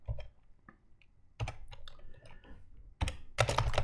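Quick bursts of typing on a computer keyboard: clusters of crisp key clicks separated by brief pauses, close and fairly quiet, ending in a denser, louder flurry of keystrokes.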